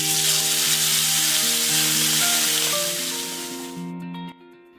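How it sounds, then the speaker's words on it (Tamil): Potato pieces coated in chilli powder and turmeric masala sizzle loudly and evenly in a pan beneath background music, the frying hiss cutting off abruptly near the end. "உருளைக்கிழங்குல நல்லா 10 நிமிஷம் மாதிரி மசாலா வசப்போக ஃப்ரை பண்ணி எடுத்தோம்னா"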